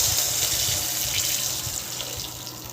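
Water runs steadily into a cooking pot holding fried curry leaves and peanuts, a short, even pouring rush close by.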